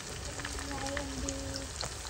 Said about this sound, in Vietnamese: Nay mưa to lắm ấy.